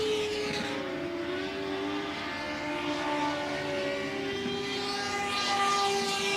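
Race cars roar around the dirt oval at Volusia Speedway Park during the 2025 Bike Week Jamboree, with the number 26L machine among them. Sustained, steady engine drones with shifting harmonic whines stay loud from start to finish.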